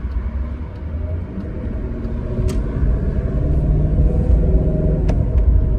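A 1994 BMW 740iL with a 286-horsepower V8 produces a steady, deep low rumble from inside the cabin, growing slightly louder partway through, with no voices.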